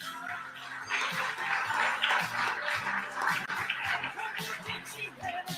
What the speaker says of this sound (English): Let's give Marcy a round of applause.